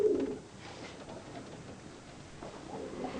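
Birmingham Roller pigeons brought over from England coo softly nearby, with a low, rolling coo at the start and more murmuring coos later over quiet background noise.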